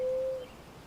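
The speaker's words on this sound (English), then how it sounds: "the lonely, mystic song of the mourning dove" A mourning dove gives a single low, hollow coo, a smooth held note lasting under half a second before fading into quiet background with no voices.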